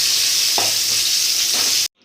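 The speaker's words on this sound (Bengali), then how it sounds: "বাকি যে পটলগুলো আছে সব আমি একইভাবে ভেজে নেবো" Pointed gourd (potol) slices frying in oil, a loud steady hiss of sizzling with a couple of soft stirring touches, close up, cutting off abruptly near the end.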